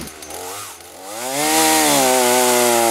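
A Lincoln L62C 62cc petrol chainsaw with a 24-inch bar runs alone, its engine climbing from a low idle into a loud, steady high-revving whine that holds for the remainder.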